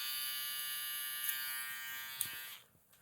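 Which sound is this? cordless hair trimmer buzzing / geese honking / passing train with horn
cordless hair trimmer buzzing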